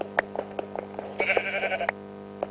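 Sheep bleating in a survival crafting video game, a few short repeated bleats with a longer wavering bleat in the middle, fairly close and clear against a quiet background.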